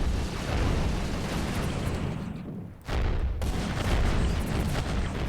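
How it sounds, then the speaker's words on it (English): A las cannon firing at bugs in the game Rimworld, heavy sustained roaring blasts that fill the sound, break off briefly near the middle, then resume just as loud. "Gonna open up with a las cannon."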